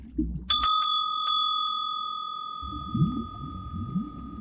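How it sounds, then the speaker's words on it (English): A bell tolls in a tale of sunken lake villages, with a bright strike and a few quick repeated rings, then a long, clear tone fading slowly, framed by a low speaking voice before and after. "the tolling of bells beneath the water"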